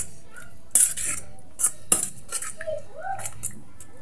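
A utensil scrapes and clinks against a bowl while a corned beef omelette mixture is stirred, a few sharp, close taps and rattles at irregular moments over a quiet background.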